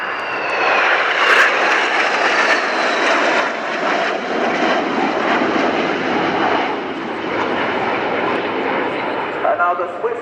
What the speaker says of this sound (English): the Patrouille Suisse parading in the formation Roger Federer